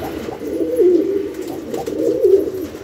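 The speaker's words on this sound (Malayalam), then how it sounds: "പാൽഗർഭ പ്രാവ്" Pigeons in a Kerala loft give low, rolling coos close by, two drawn-out phrases rising and falling over a steady murmur of other birds.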